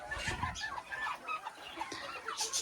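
A young Garnizé bantam rooster, son of a grey cock, gives a quick series of close, fairly loud clucks and short squawks in an uneven rhythm.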